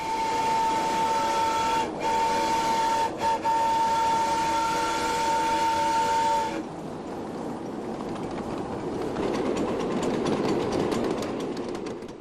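Miniature 7 1/2-inch gauge train rolling along track at a Train Mountain ride, with a steady mechanical rumble and a strong whistle-like tone for about six seconds, then softer rattling wheel noise continuing to the end.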